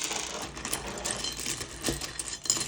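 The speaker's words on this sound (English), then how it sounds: "It is my ice maker, by the way, so excuse the clanking noise." A household ice maker clanks away with faint, irregular rattling clatter and small knocks throughout, quiet and with no one speaking.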